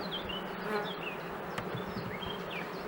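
Honeybees buzzing around the hives at an apiary during spring colony splitting, a dense continuous hum with individual bees droning close past the microphone.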